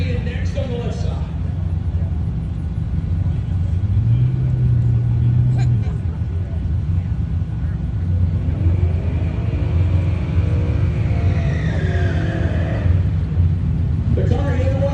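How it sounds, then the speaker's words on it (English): A 1955 Chevy race car called the Beast rolls in at a Sick Smokies event, its engine a steady low rumble that swells as it nears, with voices talking over it. "he will roll the 55 Chevy in next on the left side"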